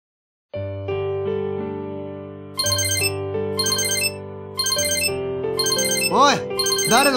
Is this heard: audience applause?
no